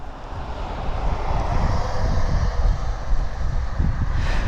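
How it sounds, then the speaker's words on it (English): An Air Bridge Cargo Boeing 747 Jumbo cargo jet at East Midlands Airport makes a distant, steady engine roar mixed with wind buffeting the microphone, sustained throughout. "That's our Air Bridge Cargo Boeing 747 Jumbo."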